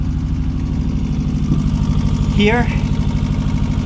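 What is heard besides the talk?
Marex Flexi boat engine running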